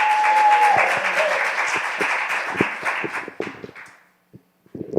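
An evening National Action Network youth gathering gives a dense burst of audience applause that holds steady, then thins into scattered claps and fades to near silence before a few final claps.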